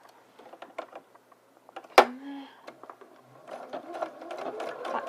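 A sewing machine stitches the lining armhole of a sleeveless dress from shoulder to side seam, running in short bursts of close, steady mechanical whirring with a sharp click near the middle.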